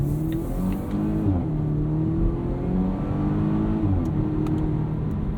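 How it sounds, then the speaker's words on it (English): A 2019 Volvo S60 T6 R-Design with a turbocharged and supercharged inline four-cylinder accelerating while merging onto a highway at night. The engine drone is loud and steady, its pitch climbing through gear changes, and no one speaks. "this turbocharged and supercharged inline four-cylinder. Merging onto the highway here."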